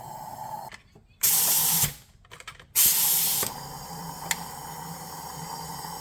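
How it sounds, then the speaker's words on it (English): Air rushes out of a cylinder on a high-mileage BMW E36 M3 engine with a suspected head gasket fault, heard as two loud bursts of hissing with short pauses, under a steady background hum. "There's like a draft of air coming out of cylinder 4."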